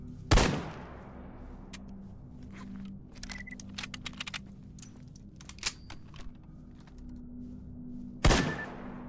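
Video game gunfire comes as two loud sharp shots at the start and end, with quick bursts of fainter rapid shots and clicks in between.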